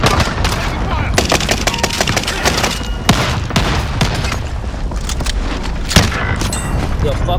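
Rapid gunfire and booming blasts from a video game fill the scene, a dense, continuous barrage with sharp louder shots around three and six seconds, loud and close throughout.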